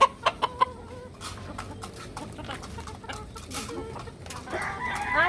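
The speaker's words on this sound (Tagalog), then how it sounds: "Yung ating mga pulet na to, ito ang tinatawag na double cut." Young pullet hens of the double-cut type clucking on a farm, a few sharp close clucks at first followed by scattered softer clucks and bird calls amid low background noise.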